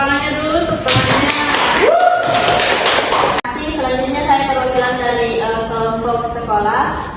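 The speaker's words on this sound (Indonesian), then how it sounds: "tepuk tangannya dulu untuk temannya" Students in a classroom clap for a classmate in a short burst of applause lasting about two seconds, surrounded and overlapped by talking voices.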